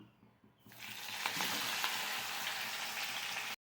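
Pabda fish dropped back into hot oil in a pan, a quiet start bursting into a loud, steady crackling sizzle that holds evenly until it cuts off.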